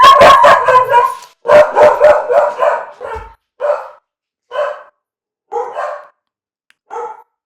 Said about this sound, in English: oh, the dog's about to bark